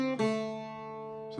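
Irish bouzouki picking a phrase of The Foggy Dew, sustained ringing notes with a bright re-strike at the start and another near the end, played alone and close.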